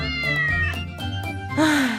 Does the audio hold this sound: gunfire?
no